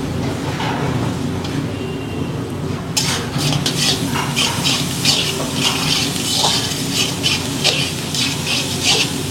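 Grated carrot frying in oil alongside capsicum for lemon rice, giving a steady loud sizzle throughout, with a spatula stirring and scraping the pan in quick, frequent strokes from about the third second onward.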